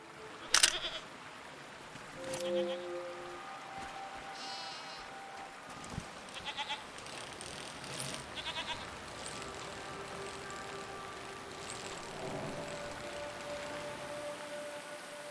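Goats bleat in the indie video game Season, a few calls scattered among faint ambient game sounds and soft clatter, fairly quiet and alone with no talk.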